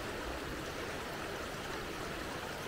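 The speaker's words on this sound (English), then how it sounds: "There's a little waterfall up there." Small waterfall along a hiking trail near Ocoee, Tennessee, a steady broadband rush of falling water heard alone at a moderate distance, constant and unbroken throughout.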